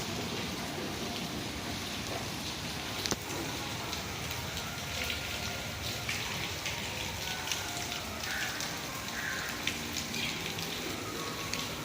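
Rain falls continuously and faintly outdoors at a premium outlet mall in Johor, Malaysia, as an even wash of patter with a few scattered drips and clicks and no talking.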